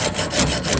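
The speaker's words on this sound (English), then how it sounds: "So I had to dig out my hacksaw." A hacksaw cuts through a water supply pipe during a home leak repair, making a steady rasping back-and-forth stroke sound, close and fairly loud for under a second.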